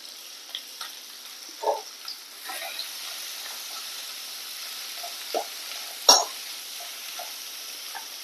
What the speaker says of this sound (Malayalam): നമുക്ക് സവോള ഇട്ട് കൊടുക്കുക കേട്ടോ ഇത് രണ്ട് ചെറിയ സവോളയാണ് കേട്ടോ